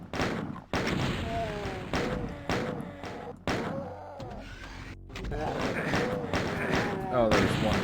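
Pistol shots fire repeatedly in Doom, played on the Plutonia 2 map set, with sharp thuds scattered across the stretch and someone talking loudly over them nearly the whole time.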